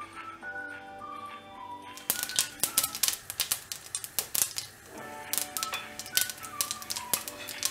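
Mustard seeds splutter in hot oil for a fenugreek leaf kara kuzhambu, with dense irregular pops and crackles, loud and close, over faint background sounds, without talk.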